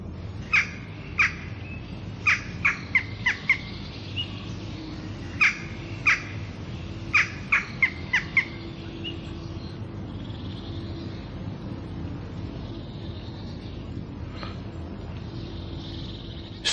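Flock of starlings calling in an open field, a cluster of sharp harsh squawks and clicks in bursts over the first half, then softer chatter over a steady background hum.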